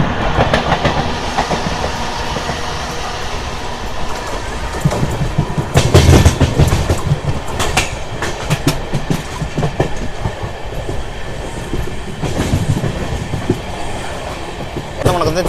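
Inside a moving Sapthagiri Express with new LHB coaches near Tiruvallur, a continuous rattling rumble carries irregular clickety-clack beats over the rails and a brief swell of louder wheel noise midway, with faint voices in the background.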